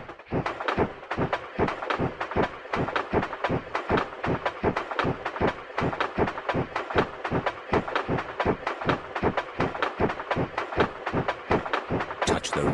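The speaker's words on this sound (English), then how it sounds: "Turn the wheel to make the train go faster." A moving train in a Peppa Pig game rattles along with a steady, rapid clickety-clack rhythm of evenly spaced beats, fairly close and continuous throughout.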